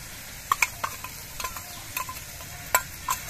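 Spice paste for a raw jackfruit kofta curry goes into a hot pan and sizzles softly while a spatula stirs, scraping and clinking against the metal in irregular, close strokes.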